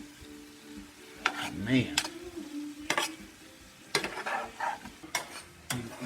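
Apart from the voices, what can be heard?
shrimp and lobster sizzling in a pan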